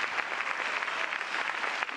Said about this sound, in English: Round of applause for Guillermo and for Kevin